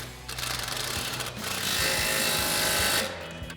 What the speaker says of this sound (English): Now we're going to go ahead and tighten that down with our 19mm socket on our impact.